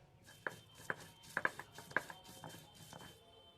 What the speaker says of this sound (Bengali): আমি শিলনোড়ায় বাটছি